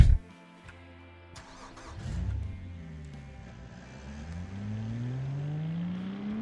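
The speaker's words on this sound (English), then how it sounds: "Now let's give the RC20 a try, which is the cheapest sports car Dolce Vita has to offer" A Dolce Vita RC20, the cheapest sports car of its line with around 100 horsepower, accelerates in the Automation game. The engine catches, then revs up through rising gear pulls, growing steadily louder with a smooth mid-pitched drone.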